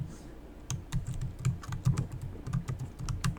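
A password is typed on a computer keyboard during the first boot of a Jetson Xavier NX, quick irregular key clicks close by and fairly quiet, with no talk.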